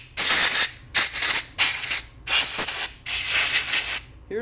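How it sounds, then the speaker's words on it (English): Compressed air blasts in four loud hissing bursts of roughly half a second each, with short gaps between them, blown over motorcycle brake parts during a brake line install and master cylinder rebuild. "a little compressed air."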